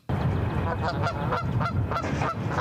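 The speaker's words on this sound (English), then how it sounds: "It's believed the goose had wandered in through a sliding door." A goose that wandered into a campus coffee shop through a sliding door honks repeatedly in loud, close, rhythmic calls against a busy indoor background.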